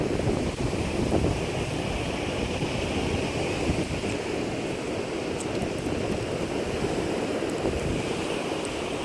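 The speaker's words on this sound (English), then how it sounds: "it's probably a bit windy for you and you'll all be complaining you can hear the wind" Steady wind roaring across an open beach during a sea glass hunt, with constant buffeting against the microphone and a faint wash of surf underneath, no voices.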